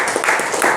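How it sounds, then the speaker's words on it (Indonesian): Students in a school classroom applaud a classmate, a short loud patter of clapping hands close by. "Tepuk tangan dulu untuk Ria."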